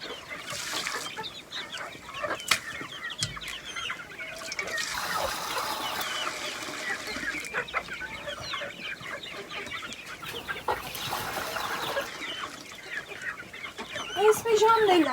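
Chickens and chicks cluck and peep at feeding time on a farm, a busy continuous chorus of calls with occasional louder clucks and some background noise, with a brief voice heard near the end.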